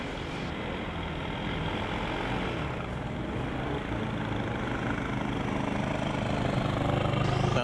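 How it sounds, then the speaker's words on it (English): A Formula Student race car engine warms up at a competition skidpad, a steady rumbling drone that holds throughout and builds slightly toward the end, close and continuous with no talk. "Sounds like we've got McGill University warming up their engine."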